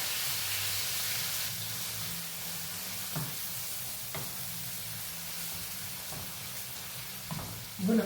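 Chopped onions and fresh tomato sizzle steadily in a pan for a yam and egg sauce, a continuous close frying hiss with a few soft stirring knocks and a louder clatter at the end.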